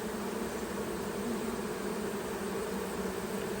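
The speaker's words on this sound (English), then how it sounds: "So these bees are not used to the other hive yet." A swarm of honeybees settling into a new hive, their buzzing a steady, dense drone that holds even and close throughout with no other sounds.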